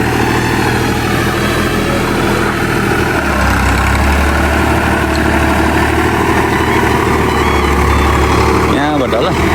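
A tractor engine idles at a rural rice-transplanting field, a loud, steady low rumble that runs unbroken through the whole stretch, with faint voices in the background.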